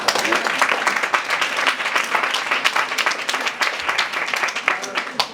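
Lively applause from a gathered staff audience at a school morning briefing for Muzz, many hands clapping in a dense, rhythmic burst with individual sharp claps standing out near the listener.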